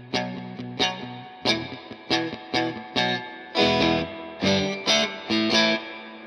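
A Danelectro electric guitar played through a Carr Lincoln amp with reverb, strummed chords ringing out one after another with a washy reverb tail, close and clear with no talking.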